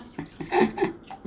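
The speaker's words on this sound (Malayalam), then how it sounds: "ഇവിടെ ഒരു ടപ്പ് വെച്ചിട്ട് അതിൽ വെള്ളം നിറച്ചിട്ട് വെള്ളത്തിൽ കളിച്ചുകൊണ്ടിരിക്കുകയാണ്." A child splashes and plays in a tub filled with water, making a few quick, close splashing bursts with soft sloshing between them.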